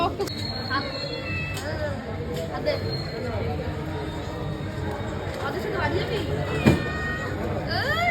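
A cat gives a few short meows amid steady chatter from nearby people outdoors.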